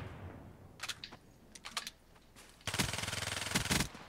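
First-person shooter video game gunfire: a few scattered single shots, then a dense automatic burst lasting over a second, fairly faint and with no talking.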